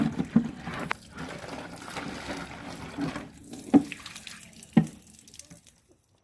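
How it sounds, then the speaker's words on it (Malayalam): Water from a tap splashes around the inside of a plastic container being washed out, an uneven sloshing flow with a few sharp knocks and clatters, fading to quiet at the end. "ഉൾഭാഗം നന്നായി കഴുകി വൃത്തിയാക്കണം"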